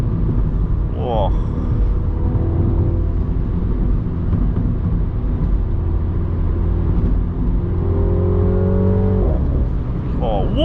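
A Mini car's engine drones loudly from inside the cabin as the car pulls hard, with rising pitch sweeps at the gear changes and brief chirps between. A voice talks over the engine at times.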